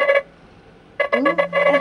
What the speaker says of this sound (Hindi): हाँ अश्विनी फोन करची।